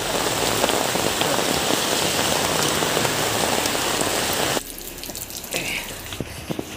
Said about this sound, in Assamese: বৰষুণ দেখিছেনে কেনেকুৱা